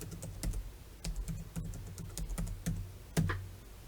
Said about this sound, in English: we're going to type in the password we set